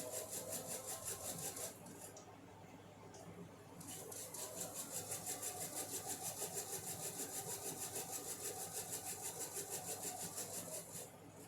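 A sewing machine chain-sews a quilt fabric seam, its needle running in a fast, steady mechanical whir with a short pause in the middle, close and fairly quiet.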